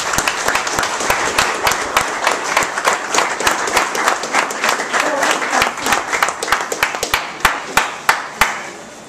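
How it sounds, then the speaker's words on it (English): A crowd at a graduation ceremony claps loudly and steadily, then thins into a few distinct, spaced hand claps at the end. "We have a round of applause for all our graduate students."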